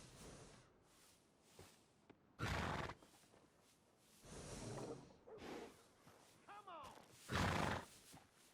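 In Red Dead Redemption 2, a horse gives two loud, shrill whinnies with hoof clops and snorts between them, and low speech is also faintly present.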